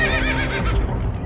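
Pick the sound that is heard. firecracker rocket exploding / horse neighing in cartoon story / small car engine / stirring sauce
horse neighing in cartoon story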